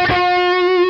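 A Fender Modern Player Marauder electric guitar on its bridge humbucker rings out one sustained note through heavy overdrive after a sharp pick attack, loud and close with a slight wavering decay.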